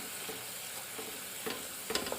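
Tomatoes fry with Kashmiri chilli powder in a pan for channa masala, a soft steady sizzle with occasional scraping stirs, close and fairly quiet.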